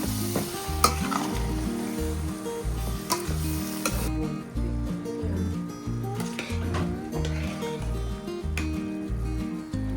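Shredded bell and habanero peppers fry in hot oil for a Nigerian ayamase sauce, giving a steady, close sizzle with soft scraping and rattling of the pan throughout and no talk.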